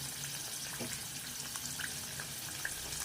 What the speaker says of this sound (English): it's splashing like that because there is still much water in it